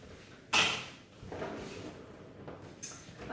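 A kitchen drawer for coffee and tea slides open or shut with one sharp clack, followed by fainter rattles and a second softer knock, close by in a quiet room.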